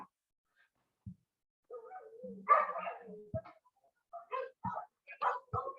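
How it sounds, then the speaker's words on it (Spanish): Dogs barking and scuffling in a fight, several short sharp barks and yelps in irregular bursts at moderate distance, with quiet gaps between them. "Ya, por acá también pelean los perros."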